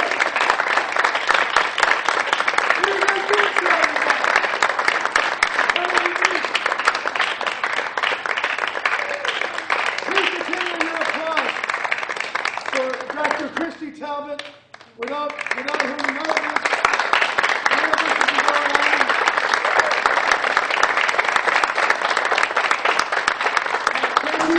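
Sustained applause from a school concert audience, dense steady clapping that briefly dips and then swells back to full strength, with some voices mixed in.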